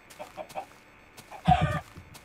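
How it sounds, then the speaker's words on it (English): Minecraft chicken clucking, a short burst of bright, rapid clucks standing out after a few faint blips of game noise, close and clear. "Nice, chicken."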